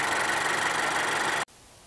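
A Honda CR-V's 1.5-liter four-cylinder engine idles with a steady, even hum that cuts off abruptly partway through, leaving near silence.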